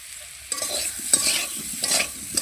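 Potatoes for aloo dum fry and sizzle in a pan while being stirred, a steady hiss with scraping strokes of the spoon recurring every second or so.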